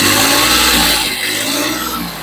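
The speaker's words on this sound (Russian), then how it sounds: "как трактор набирает быстрый оборот" Engine of a Yanmar F13D compact tractor revving up to high speed, a loud close mechanical roar that holds briefly then eases slightly, with no voices.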